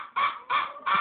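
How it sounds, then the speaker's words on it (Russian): Loud, harsh squawks from chickens repeat three times in quick succession, close by, with no talking. "Курочки немного возмущены"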